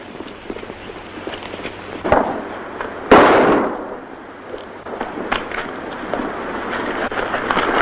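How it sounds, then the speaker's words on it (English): Gunfire in an old black-and-white western film: two sharp gunshot cracks a second apart, the second louder and trailing into a rushing echo, over a steady hissy film-soundtrack background. "Grab the guy that did the shooting."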